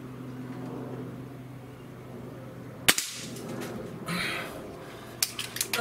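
A Gamo Swarm Magnum .30 caliber air rifle fires a single sharp crack midway through, followed by a short metallic rattle and some handling clicks over a steady background hum.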